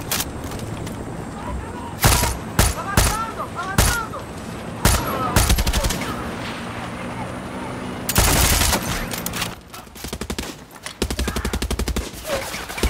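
Gunfire in Far Cry 6: bursts of rapid automatic shots and single loud cracks rattle across several seconds over a steady background, with talk in between.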